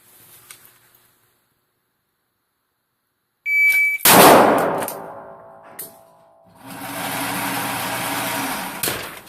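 A shot timer gives a single sharp, high electronic beep, followed by a loud burst of handgun-draw noise and a sustained broadband rush.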